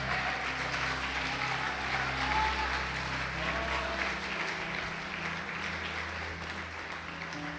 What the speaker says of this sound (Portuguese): Pode aplaudir o Senhor Jesus e glorificar a Deus.